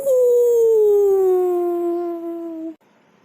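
A jackal lets out one long, loud howl that slides slowly downward in pitch and holds for nearly three seconds before breaking off, leaving near silence.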